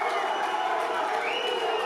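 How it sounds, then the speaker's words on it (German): A stadium crowd at a football match roars in sustained cheering right after an equalizing goal, a dense, distant-sounding wash of voices with no single speaker. "Großer Jubel bei den Hohenemsern im Stadion."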